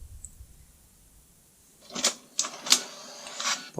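An HP DeskJet 1510 inkjet printer with dirty pickup rollers pulls in paper for a copy, starting quiet and then giving several sharp mechanical clacks and whirring bursts close by.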